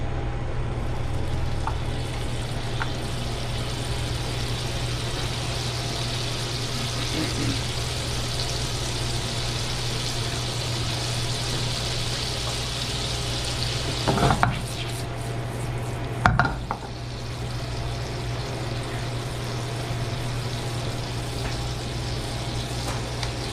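Plantain slices fry in a pan over medium heat with a steady, even sizzle and low hum throughout, broken by two brief clattering knocks of a utensil against the pan.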